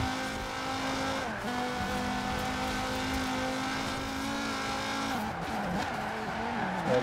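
A Volvo race car in a racing video game accelerates hard, its engine whine holding high and steady with brief dips at gear changes, over a continuous road roar.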